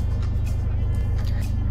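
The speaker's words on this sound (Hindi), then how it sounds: "डीजल इंजन के हिसाब से अभी भी ठीक ठाक एविडेंट नॉइज़ आपको नज़र आएगा" A 2014 Toyota Etios Cross diesel engine with about 117,300 km on it idles with a steady low throbbing clatter, continuous and close, with no voices.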